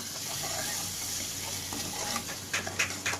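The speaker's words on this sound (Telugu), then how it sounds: "ఈ పచ్చి వాసన వాసన పోయేదాకా వేయించుకోవాలి" A tomato and green chili paste fries in a pan over a medium flame, giving a steady close sizzle with wet bubbling, and a few louder stirring scrapes come in near the end.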